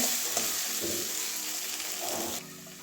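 Egg being stir-fried in a pan for a pointed gourd recipe, a loud close sizzle with stirring scrapes that drops a little quieter near the end.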